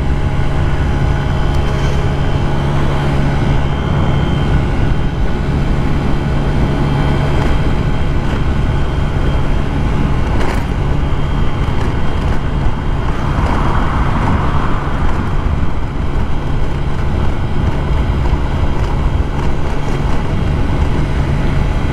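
A GY6 50cc scooter being ridden, its small engine a steady, loud drone mixed with wind rush, running continuously at an even pace throughout.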